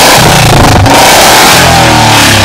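A loud Royal Enfield Bullet motorcycle engine revs close by, a thick, throbbing roar that fills the whole clip with no voices.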